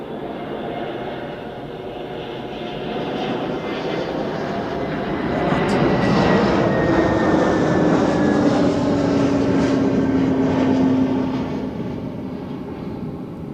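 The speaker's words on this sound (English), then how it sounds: "That was the Swiss A321neo from Geneva." A Swiss Airbus A321neo jet arriving from Geneva roars past at Zurich Airport, its engine noise swelling steadily to a loud broad rumble and whine before easing off slightly.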